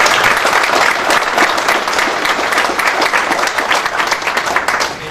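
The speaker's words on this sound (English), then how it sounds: "let's give him a big round of applause" A room full of people at a city council meeting applauds for a departing council member, with dense, steady clapping that stays loud throughout and fades slightly at the end.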